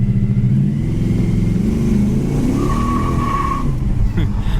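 A maroon 1969 Pontiac GTO with power brakes drives and accelerates on pavement, its engine a loud, steady rumble close by with a rising tone near the end, and a voice talks over it.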